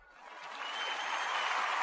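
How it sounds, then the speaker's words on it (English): Canned applause from a sound-effect button, a short burst of clapping that swells from faint to steady and fills the moment without voices. "Use the applause button, Colleen."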